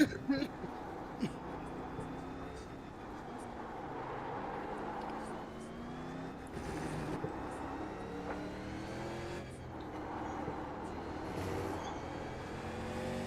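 A steady, droning racing car engine in the iRacing video game hums through the clip with shifting, revving pitch, while people talk over it.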